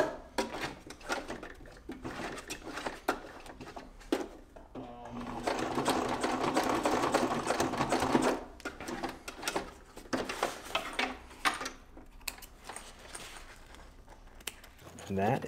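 Sewing machine running a line of stitches back over a zipper chain to reinforce a front label pocket, a steady mechanical whirr in bursts that swells in the middle, with a voice talking over parts of it.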